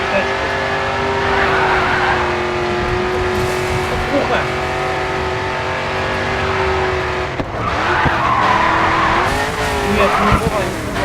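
A car drifting on asphalt in the GRID 2 racing game, with a loud, sustained engine whine and screeching tire squeal that rises and falls throughout.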